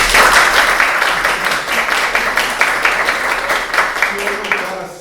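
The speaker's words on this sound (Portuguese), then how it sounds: "uma salva de palmas para o Ciano" An audience at a talk breaks into applause, steady dense clapping that carries on through the whole span and thins slightly near the end.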